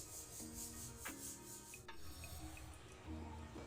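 Spices being mixed into flour by hand for Gujarati muthiya dhokla, giving soft rubbing and rasping strokes with a few light knocks against the bowl, close and quiet, with no talk.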